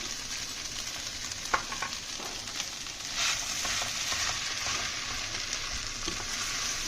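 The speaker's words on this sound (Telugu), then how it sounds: "ఇవన్నిటిని బాగా కలుపుకొని కాసేపు మగ్గనివ్వాలి" Sabudana khichdi with potatoes is stirred in a pan, giving a steady frying sizzle across the whole stretch with occasional soft scraping strokes of a spoon, close and moderately loud with no talking.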